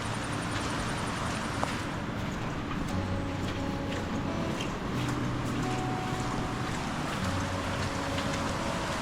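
Forceful water rushing steadily through a Ratnagiri village in the evening after high water has receded, a continuous loud broadband roar with wind buffeting the microphone throughout.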